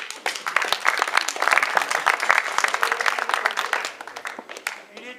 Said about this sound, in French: On applaudit Michel.